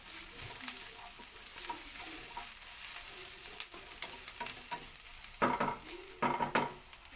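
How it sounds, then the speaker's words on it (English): Chopped garlic sautés in a pan for pork kare kare, giving a soft, steady sizzle with scraping stir strokes that grow louder toward the end, close up and without voices. "And then followed by chopped garlic. And then just saute this for another 1 minute."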